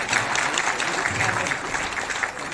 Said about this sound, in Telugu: మేడం కోసం బిగ్ క్లాప్స్ అండి